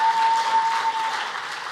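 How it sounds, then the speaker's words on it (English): Steady audience applause at a trade and investment forum, dense and continuous clapping with a faint steady tone running underneath for the first second. "then please give me the 3rd round of applause."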